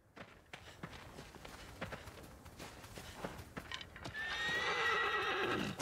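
A horse in Shadow of the Colossus neighs loudly and close at the end, after a run of hoof clip-clops and footsteps that are sharp and irregular.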